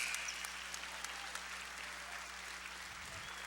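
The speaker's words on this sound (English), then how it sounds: "a nice round of applause from the Hazleton area faithful for Brooke Boretsky as she'll leave this gam" Crowd applause at a girls' high school basketball playoff game in a gym, a fairly faint, steady patter of clapping with a low hum underneath and a few sharper claps near the start.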